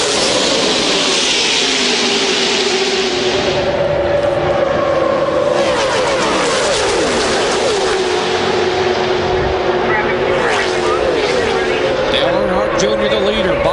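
NASCAR Winston Cup stock cars roar around Talladega in the 2000 Winston 500 finish, a loud continuous pack of engines with rising and falling passes, under excited race commentary.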